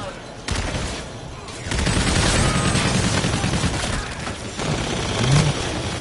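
Sustained bursts of automatic gunfire and explosions in a Call of Duty match, dense and loud for most of the stretch, with brief quieter gaps between volleys.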